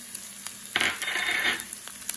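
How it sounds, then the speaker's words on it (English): Cumin seeds crackle and sizzle in hot ghee, a sudden hissing burst that settles into a steady fry. "Now let the jeera sizzle a little bit so it cooks, but don't burn it."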